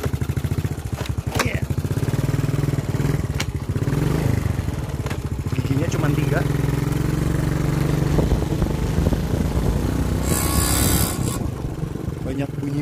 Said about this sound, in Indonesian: Kita coba jalan dengan motor ini.